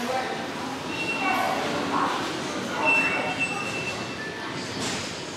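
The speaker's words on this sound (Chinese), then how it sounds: "地铁到了这一站，就是从三号出口。" A metro train rumbles into a station in Chongqing with a steady roar and faint wheel squeals, amid a busy crowd.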